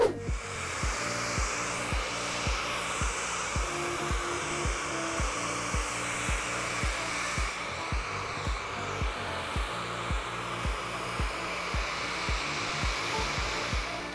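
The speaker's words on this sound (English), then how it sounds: "And now I just need a hair dryer" A hair dryer blows steadily and loudly throughout, a constant rushing whoosh with a faint rhythmic pulsing and no voices.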